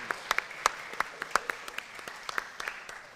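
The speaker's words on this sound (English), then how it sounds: "I'm going to ask you all to give both the mural and Tracy Keynes a big round of applause" Audience applause breaks out at a school board planning and action meeting: a run of scattered, moderately distant claps with sharp individual hand strikes, thin and uneven rather than a dense roar, with no talk over it.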